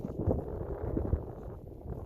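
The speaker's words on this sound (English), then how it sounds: "A couple of our trees blowing in a bit of wind." A couple of tall young trees blowing in gusty wind ahead of a thunderstorm, a low, rumbling rush with buffeting on the microphone, steady and fairly close with no clear voices.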